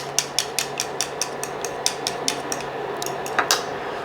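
Eggs being beaten for a maki sushi omelette: a steady, rapid series of light clinking taps as a utensil strikes the bowl, about three per second, close and clear with no talk.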